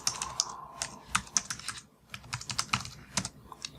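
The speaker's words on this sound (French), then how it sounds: "Je tape le mot de passe que j'ai choisi." Someone types a password on a computer keyboard, a close series of irregular clicking keystrokes with a brief pause in the middle, no voices.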